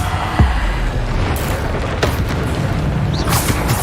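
Bombarda spell explosions in Hogwarts Legacy: a dense, continuous roar of magical blasts with sharper bursts every second or so, loud and close, with no talk.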